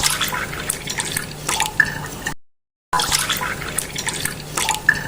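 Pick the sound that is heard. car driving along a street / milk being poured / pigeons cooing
milk being poured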